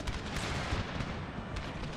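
Cannon fire in a Total War game set in the Thirty Years War: dense, overlapping booms and rumbling blasts roll continuously through a massed battle, loud and thick with no pause.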